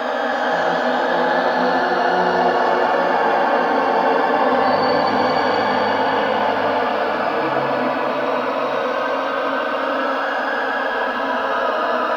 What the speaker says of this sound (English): Now I turn on reverb, not just to create space, but to let the notes play together